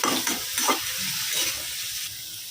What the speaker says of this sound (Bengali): বেগুনটা এর মধ্যে ভাজবো সাথে নিম পাতাটাও ভাজা হবে